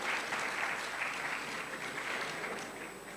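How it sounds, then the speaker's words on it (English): Audience applause at an art and lifestyle expo launch at the AC Hotel in Kingston, Jamaica: steady, dense clapping from a crowd that holds for the whole stretch before fading slightly at the end. "Give yourself a round of applause."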